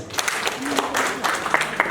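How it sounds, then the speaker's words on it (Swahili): An audience at a gathering in Kakamega claps, with a brief burst of scattered applause that has sharp individual claps and crowd murmur underneath. "Mjichotee makofi."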